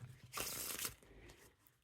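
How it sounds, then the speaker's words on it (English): A deck of Bicycle playing cards is riffle shuffled up close, giving one quick, crisp burst of fluttering cards that tails off into a softer bridge and settle, with no voice. "I can actually get a consistent riffle every time."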